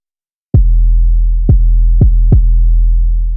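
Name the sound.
plain 808 bass drum sample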